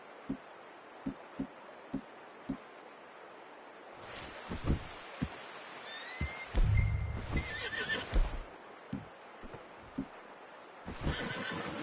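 Hooves clip-clop in a slow, spaced rhythm, then a horse in the video game Red Dead lets out a loud, drawn-out neigh and snorts nearby before the hoofbeats resume.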